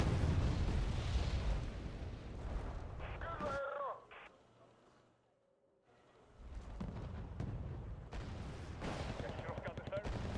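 Muffled booms and crackling blasts of mortar fire rumble through a war video game, heavy at first and again near the end, with a quieter stretch in between and voices talking over the action.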